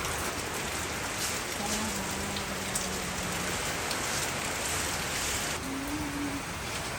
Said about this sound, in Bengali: আবার প্রচণ্ড ঝড় শুরু হয়েছে সেই সঙ্গে বৃষ্টি